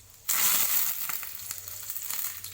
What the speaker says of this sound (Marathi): ही एक मोहरी घातली आहे त्याच्यामध्ये अशी तडतड वाजू लागली की थोडं जिरं घालायचं आहे